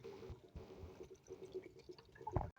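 Water pours into a cooking pot of beef for yakhni pulao, a close, uneven splashing and gurgling that runs for a couple of seconds before ending in a brief louder slosh.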